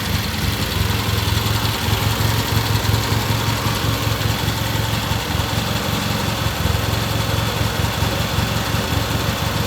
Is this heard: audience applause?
no